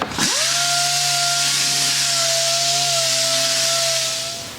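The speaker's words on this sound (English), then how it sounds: "I really like just the little air random orbit sanders, but I'm just sanding it first with 120 grit" An air random orbit sander with 120 grit sanding wood whirs steadily with a high, even motor whine and a broadband hiss of abrasion, running continuously without any voices.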